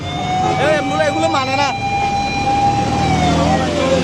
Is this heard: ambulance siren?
yes